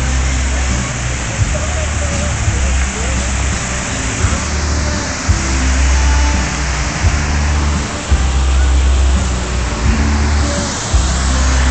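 An outdoor water feature at Praça das Artes rushes in a loud, continuous hiss and splash, steady throughout with low rumbling city noise beneath.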